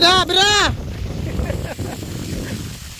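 Strong wind buffets the microphone in a steady rumbling roar after a brief shout, with gusts rising and falling.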